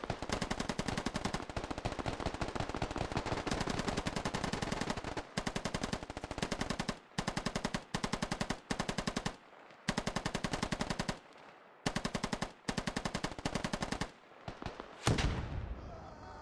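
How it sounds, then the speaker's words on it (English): Sustained suppressing machine gun fire in the tactical shooter game Squad, long rapid automatic bursts broken by short pauses, loud and close, with no talk over it. "I'm gonna just see if I can back off and lay down suppressing fire."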